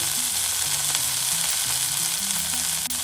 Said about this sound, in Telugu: ఇప్పుడు వీటన్నిటినీ కూడా లో ఫ్లేమ్లో పుదీనా కొత్తిమీర ఫ్రై అయ్యేంత వరకు కూడా ఫ్రై చేసుకోవాలి